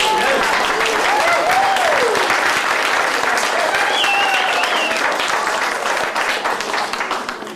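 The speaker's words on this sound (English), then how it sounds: "Give him another round of applause." Steady crowd applause at an outdoor Native spiritual gathering, sustained and dense throughout, with voices and whoops rising over the clapping before it eases slightly at the end.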